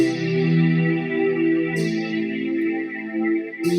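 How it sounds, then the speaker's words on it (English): A bright, chorused synth loop with swelling sustained chords and a sweeping airy attack that returns near the end, played loud and clear without any voices. "let's start with this, which is the Euroheart synth. Very sort of like uplifting, something's building"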